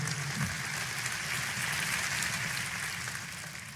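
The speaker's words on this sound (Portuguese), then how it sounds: "aplauda ao Senhor em louvor" Church congregation applauding in praise during a Portuguese-dubbed sermon, a steady dense wash of clapping that holds evenly for several seconds before easing slightly at the end.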